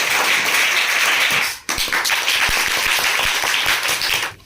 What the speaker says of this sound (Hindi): एक बार ताली बजाओ जोरदार